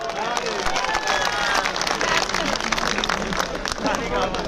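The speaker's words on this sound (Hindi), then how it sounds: "ताली बजा दो।" An audience claps at a Delhi BJP protest rally against the Kejriwal government, a fast, scattered burst of many hands in a crowd, with murmuring voices mixed underneath throughout.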